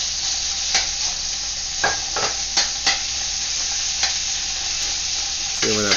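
Ground pork sizzles steadily in hot oil in a wok, a loud continuous fry broken by occasional scraping and clacks of a utensil against the pan.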